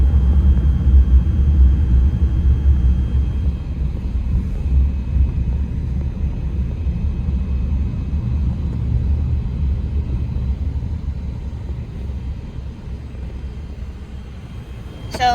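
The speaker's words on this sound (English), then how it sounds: "we are at a very busy intersection of the city road, and there are traffic flows in 4 different directions" Busy city road intersection with traffic moving in four directions, a steady low rumble of engines and passing vehicles that fills the whole stretch without pause.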